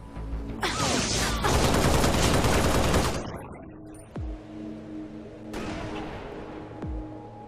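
Video game gunfire in a Halo setting, a dense burst of rapid automatic shots lasting a few seconds, followed by a couple of sharp single booms and a lingering rumble.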